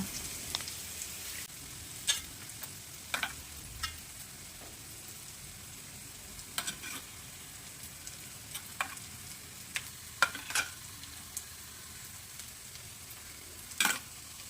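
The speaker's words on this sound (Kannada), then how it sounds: "ಎಲ್ಲವನ್ನು ಹಾಕಿ ಸ್ವಲ್ಪ ಫ್ರೈ ಮಾಡ್ತಾ ಇದ್ದೇನೆ" Masala with ginger frying in a pan for a mackerel curry: a faint, steady sizzle punctuated by scattered, sharp clicks of a spoon stirring against the pan.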